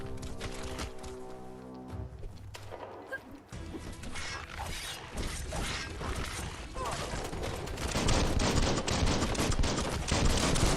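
Rapid gunfire in the open-world video game Biomutant, dense bursts of shots and impacts building steadily louder over game music, with someone talking excitedly over the action.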